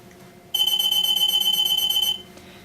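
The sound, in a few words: EAS AM anti-theft security system alarm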